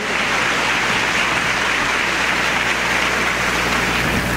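Congregation applause in a church welcoming back a group of about sixty from a senior retreat camp, a dense steady wash of clapping sustained throughout without pause.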